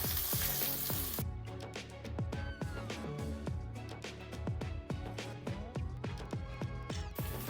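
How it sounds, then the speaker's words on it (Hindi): Minced garlic, about a teaspoon, fries with onion in a hot pan for General Tso's chicken sauce, giving a steady close sizzle broken by frequent sharp scraping and clinking strokes of stirring. "इसके साथ ही जाएगा 1 टीस्पून गार्लिक, इसको कर लेते हैं फ्राई।"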